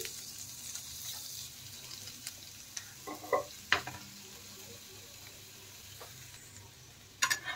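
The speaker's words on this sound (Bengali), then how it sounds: "এখন আলুগুলো দিয়ে দেব। এইভাবে ম্যাশ করে দিয়ে দিচ্ছি।" Boiled, peeled potatoes are mashed into spices frying in a pan, giving a soft, steady sizzle with a few scraping, squelching bursts, close and fairly quiet, with no voices.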